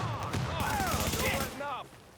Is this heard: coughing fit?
no